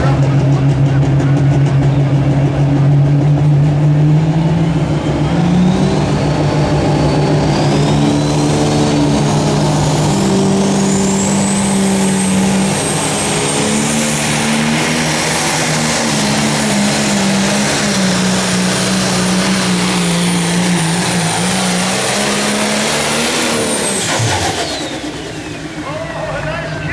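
A pulling tractor at the 2018 Midwest Summer Nationals tractor and truck pull in Freeport, Illinois roars loud and close for a long sustained run, its pitch rising and wavering before cutting off sharply near the end, with an announcer talking over it.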